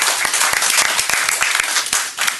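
Audience at a board of trustees meeting claps in a brief burst of applause, dense and fairly close, with no voices over it.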